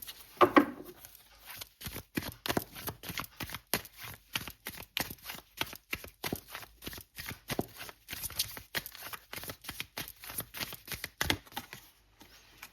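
A deck of Osho tarot cards shuffled by hand, close and quiet, a long run of quick papery riffles and flicks in an uneven rhythm with no talking.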